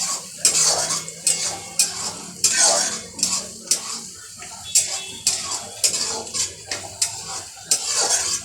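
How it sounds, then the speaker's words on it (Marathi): Onions are sautéed in a pan for a pomfret curry, with repeated metallic scrapes and clinks of a spatula against the pan every half second or so, a soft sizzle underneath, close and fairly loud. "कांदा चांगला लालसर रंग येईपर्यंत परतवायचा आपल्याला।"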